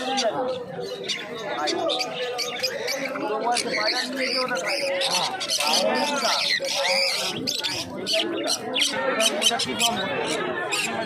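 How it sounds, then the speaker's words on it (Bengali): Many caged Java sparrows at a pet market chirp and twitter together in a busy, overlapping chorus, with a person talking over the chatter. "এই খাঁচাটার মধ্যে প্রচুর জামা পাখি রয়েছে"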